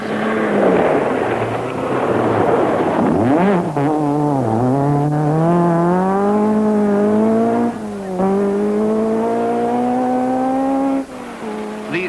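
A Ford Escort rally car, number 1, races a stage of the 1972 Welsh Rally. Its engine roars loud and close, climbing in pitch through repeated gear changes, with brief dips between shifts.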